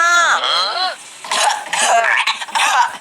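A person lets out rhythmic, sing-song coughs, voiced and close, in a bouncing pattern of a few rising and falling bursts, with a second voice joining briefly.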